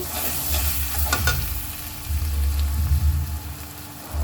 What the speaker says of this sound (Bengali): হলুদের গুঁড়ো মরিচের গুঁড়ো দিয়ে ভালো মতো নেড়ে নিচ্ছি